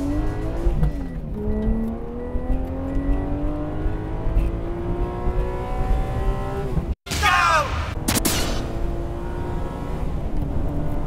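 A Toyota 86 with a swapped-in 3-liter straight-six engine revs hard and climbs through the gears on a mountain pass, pitch rising steadily, with a brief cut and a sharp burst near the end.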